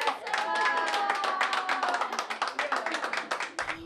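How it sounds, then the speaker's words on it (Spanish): Domestic workers clapping together, a dense burst of group applause with overlapping hand claps that thins toward the end, close and fairly loud, with voices calling out over it. "Este aplauso es para nosotras mismos"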